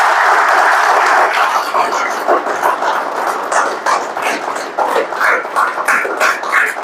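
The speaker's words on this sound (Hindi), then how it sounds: "तो एक बार जोरदार तालियां हो जाए।" An indoor audience bursts into loud, dense clapping, which gradually thins into scattered, uneven claps over several seconds.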